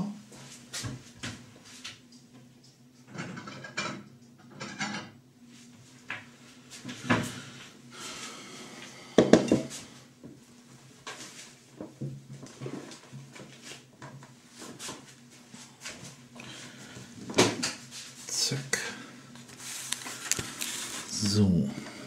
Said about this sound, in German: da muss ich jetzt schnell einen Teller holen und mein Messer.